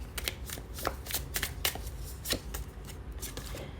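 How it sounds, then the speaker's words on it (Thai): Tarot cards are shuffled and laid out during a reading, a rapid series of crisp papery flicks and riffles, close and fairly even in rhythm, with no talking. "เดี๋ยวหมอขออนุญาตเปิดไพ่เพิ่มนะคะ"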